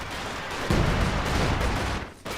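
Company of Heroes 2 ZiS artillery barrage in a match, a loud, dense roar of overlapping blasts and rumbling impacts sustained for about two seconds, then a brief dip before it resumes.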